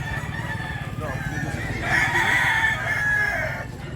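Roosters crow and cluck among a flock of chickens in a rural market setting, one long crow rising clearly over a steady low rumble of background noise.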